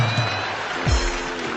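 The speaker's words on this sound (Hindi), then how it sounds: "ये सिर्फ वे लोग तालियां बजा रहे हैं जिनके घर में लगी हुई है" Brief burst of audience applause at a live comedy show, loud and close, fading out within a couple of seconds.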